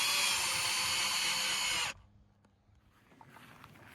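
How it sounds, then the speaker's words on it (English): A power drill bores a hole for a wooden fence insulator, one loud continuous whine that cuts off abruptly partway through, leaving quiet outdoor ambience afterward. "now I'll use the drill to finish it up."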